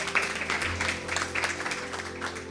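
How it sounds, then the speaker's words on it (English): Soft, distant applause from a summit audience at a youth ocean event, a faint continuous patter of clapping at low level. "A round of applause."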